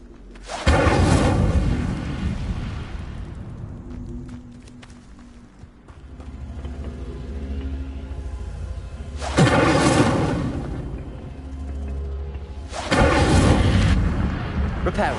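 Incendio fire spells cast in Hogwarts Legacy, three loud roaring bursts of flame that swell and fade, separated by quieter rumbling game ambience.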